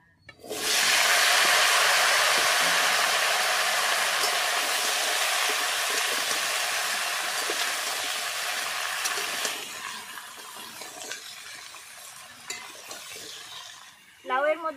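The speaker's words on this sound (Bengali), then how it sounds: "মাছ ভাজা তেলের মধ্যে লাউ দিয়ে দেব" Pieces of bottle gourd are dropped into hot oil left over from frying fish. A loud, close hissing sizzle erupts, holds steady for several seconds, then settles into a softer crackle before a voice speaks briefly at the end.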